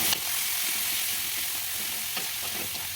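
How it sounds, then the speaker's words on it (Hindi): Chopped tomatoes and spices fry in a pan over a medium flame, giving a steady close-up sizzle throughout, with a few soft scrapes from occasional stirring and no voices. "बीच बीच में चलाते हुए सारे मसालों को भून लेना है।"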